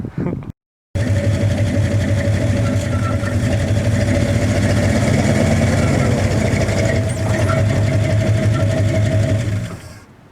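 The engine of a 1961 Chevy Apache truck drives up onto ramps, a steady loud idling rumble that runs continuously after a brief cutout near the start and fades out at the end.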